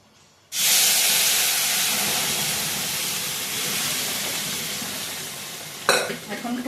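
Lentils are poured into a sizzling tempering in a pan at home, and a loud burst of hissing steam starts suddenly and settles into steady frying. A few clattering knocks come near the end.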